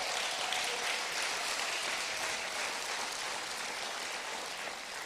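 Sustained audience applause fills a hall during a mayor's State of the City address in Youngstown, Ohio: dense, steady clapping from a large crowd that holds at an even, fairly loud level throughout and tapers very slightly at the end.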